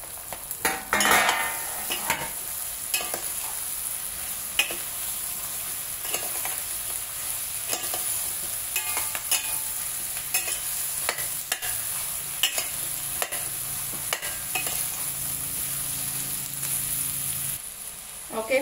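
Half a kilo of bitter gourd pieces frying in a pan after onions turned golden brown, stirred often: a steady sizzle with frequent clicks and scrapes of a spoon against the pan, close and busy, no voices.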